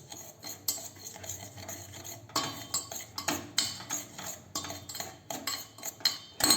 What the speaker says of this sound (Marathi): आणि ते आधी मिक्स करूया गॅस चालू करायच्या आधी